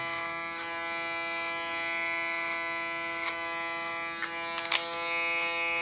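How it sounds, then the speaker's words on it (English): Electric hair clipper buzzing steadily while cutting short hair, a close, constant motor whine with small crackling snips as the blades move through the hair; no talking. "use my clipper as a comb"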